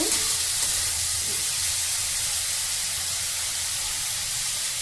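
Saag greens frying over a high flame in an Odia kitchen: a steady, loud broadband sizzle with faint stirring scrapes, continuous and close throughout.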